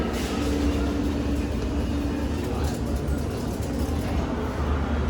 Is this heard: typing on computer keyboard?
no